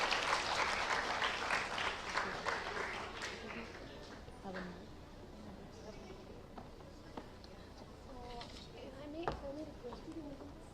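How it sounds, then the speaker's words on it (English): Audience applause at a climate-themed festival talk, loud at first and then thinning into scattered claps amid murmuring and shuffling from a young crowd. "A big round of applause for Mr. Nand Kishore as well."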